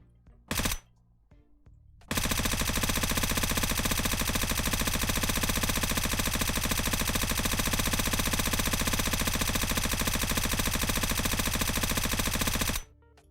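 Suppressed M249 machine gun with a 200-round capacity firing in a video game: a short burst, then one long, unbroken, loud stream of rapid shots lasting about eleven seconds before cutting off.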